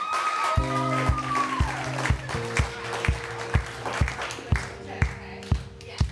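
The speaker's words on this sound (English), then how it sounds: "Give him a clap" Audience clapping for a performer at a music performance, a steady beat of claps falling in time under sustained musical tones, moderately loud.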